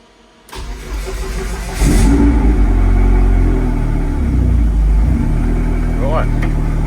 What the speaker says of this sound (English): There's three primes, so let's try and start the car.